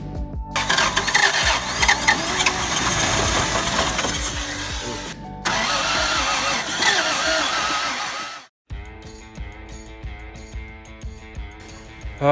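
An old Toyota Land Cruiser FJ60 with a newly fitted carburetor cranks and tries to start, a loud sustained mechanical churning that cuts out briefly, resumes, then drops to a rougher, choppier running sound after a short silence.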